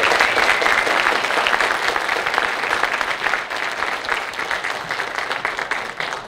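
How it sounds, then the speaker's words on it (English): Sustained applause from a school band concert audience, dense and steady clapping that gradually thins slightly toward the end. "Let's give them a round of applause."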